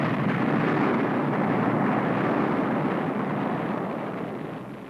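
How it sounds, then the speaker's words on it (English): Volcanic explosions where lava pours out near the sea surface, heard as a continuous heavy low roar and rumble that stays loud and gradually eases toward the end. "tremendous volcanic explosions sometimes occur."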